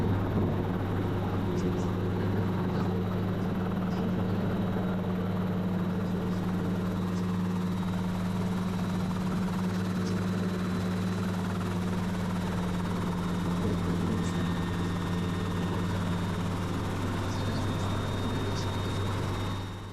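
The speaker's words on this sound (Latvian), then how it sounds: "ja jūs redzat, ka helikopters ir pacēlies vai nolaidies un palicis taisns" Helicopter on a first test flight lifting off or setting down, a steady loud rotor and engine drone holding throughout with a constant low hum and faint higher whine, close by.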